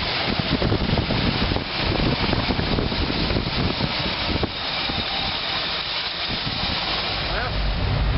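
A 1986 GMC Blue Bird bus with a rebuilt carburetor idles high after a cold start, making a continuous rough engine rumble mixed with hiss and wind buffeting on the microphone.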